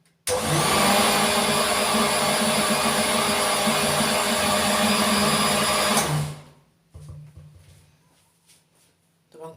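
A kitchen blender whips powdered sugar into homemade Nutella, a loud, steady high-pitched motor whine running for about six seconds before cutting off, followed by faint clatter and a low hum.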